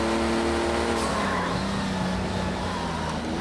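An older race car's engine in Project Cars 2 revs and drones steadily at high RPM, loud and close, with tire noise and a rising pitch through the run.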